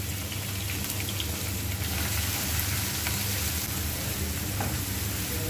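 Chopped onion, garlic and green chilli frying in a little oil, a continuous even sizzle with faint crackles, moderately quiet and close, steady throughout with no talking.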